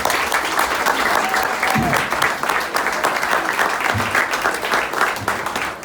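An audience applauds the event organizers with sustained, even clapping from a sizable crowd, and a few louder nearby claps stand out over the continuous wash.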